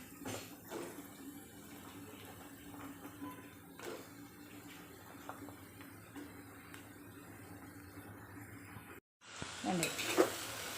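Chopped vegetables for avial tipped into a pan and stirred, a soft, steady scraping and shuffling with faint sizzle throughout, a brief silent gap, then louder clattering stirring near the end.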